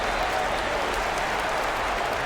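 An NBA arena crowd at an Indiana Pacers versus Atlanta Hawks game cheers and applauds continuously during a t-shirt toss, a dense, sustained roar of many voices heard from within the stands.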